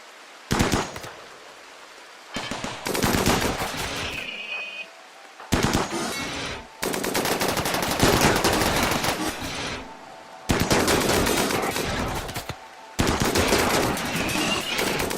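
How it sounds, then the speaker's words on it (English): Automatic turret fire from a Rimworld colony defense aimed at an attacking mechanoid: loud sustained bursts of rapid gunfire, several long volleys separated by short gaps, dense and close with no talk over it. "At least until this turret starts shooting at him."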